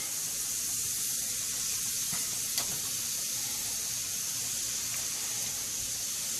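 Precooked shrimp dropped into a hot pan with margarine sizzle and hiss in a steady, even crackle that carries on quietly and alone, with a faint clink partway through.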